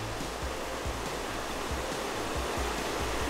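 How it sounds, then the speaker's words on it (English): A creek flows beside a backpacking trail on the Allegheny Front, giving a steady, close broadband rush of moving water throughout with no speech. "you hear the water as you're walking"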